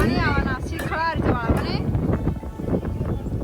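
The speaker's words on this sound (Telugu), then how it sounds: "పైగా వర్షం వస్తట్టుంది గాలి దుమారం" Strong wind gusts against the microphone in a constant rumbling rush during a rainstorm as someone speaks underneath it.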